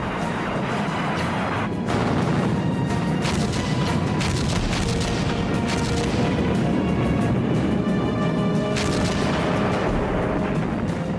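Soviet artillery barrage at Kursk at night, a dense, continuous roll of heavy booms and crashing blasts, loud and sustained throughout with no voices.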